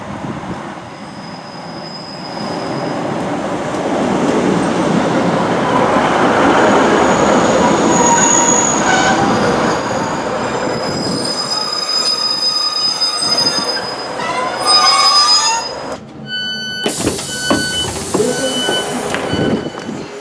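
A passenger train on the East Kilbride line in Scotland rumbles past loudly, its wheels letting out high, sustained metallic squeals that grow sharper and shriller toward the end.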